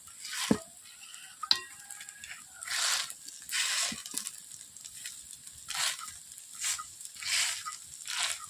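Kulekhara leaf fritters fry in a wok, giving soft surges of sizzling oil that swell and fade, with a few sharp clicks of a utensil scraping and turning them early on.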